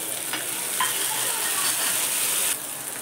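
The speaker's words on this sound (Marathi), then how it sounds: "कोथिंबीर टाकते आणि टोमॅटो टाकते." Coriander and chopped tomato hit a hot frying pan with a steady, close sizzle that fills the pan for about three seconds, with a few faint clinks and stirring scrapes along the way; the sizzle drops back slightly near the end.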